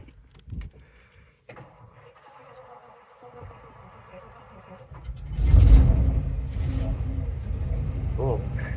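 A 1949 Lincoln Cosmopolitan sedan, six-volt system, having its engine started: keys jangle, then the starter and engine catch into a loud, steady low rumble that carries to the end, with people talking nearby.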